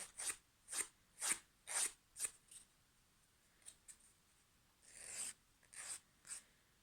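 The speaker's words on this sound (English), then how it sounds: "A bit of filing strengthens the nails, gets rid of all the dead bits" A nail file rasps across fingernails in a manicure, with quick scratchy strokes in two bursts, four or five at first, then a pause, then a few more, fairly faint and close with no talking.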